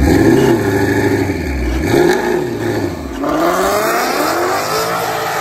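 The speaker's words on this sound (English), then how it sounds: "the transmission is got a loud thud and it's doing something weird halfway down the track" Twin-turbo Mustang GT with a broken transmission revs hard and loud up close, engine pitch sweeping up and down in repeated surges, then climbing steadily as it pulls away with a clattering edge.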